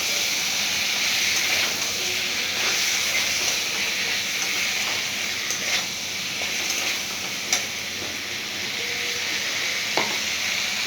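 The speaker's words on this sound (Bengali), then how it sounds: "খুব সুন্দর কষা হচ্ছে, একটা সুন্দর গন্ধ বেরিয়েছে" Kochur loti with bhetki fish for a chochhori sizzles and hisses steadily in a pan as the spices are fried down, with occasional faint clinks of stirring.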